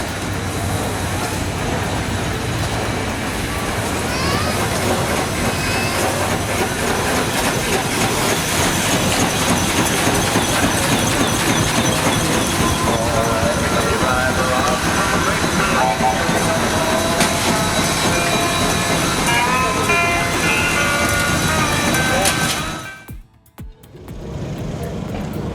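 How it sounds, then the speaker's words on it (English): Three old stationary steam engines driven straight from their boilers at an industrial exhibition, a loud continuous mechanical clatter and rhythmic chugging with hissing, running steadily before a brief break near the end. "3 stationary steam engines, each driven straight from their boilers."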